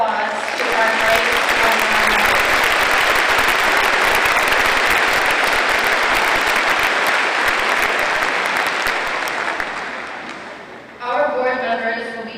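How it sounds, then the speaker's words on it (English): Sustained applause and cheering from a large crowd at a high school graduation ceremony, loud and dense for about ten seconds, then fading before a voice speaks over a microphone. "Please give a round of applause to our great"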